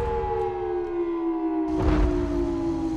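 Siren Head's siren wail in a horror video game, a loud sustained tonal drone that holds steady and then swells with a rushing, booming layer near the end.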